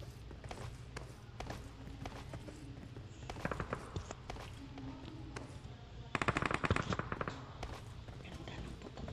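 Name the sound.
gunfire in the video game PUBG Mobile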